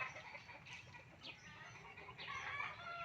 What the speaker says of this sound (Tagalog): Nagpuputak ng mga manok.